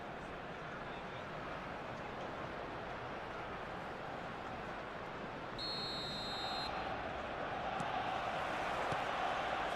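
Simulated stadium crowd in the eFootball video game roars steadily before kickoff, a dense, constant wash that swells slightly toward the end, with a brief electronic tone partway through.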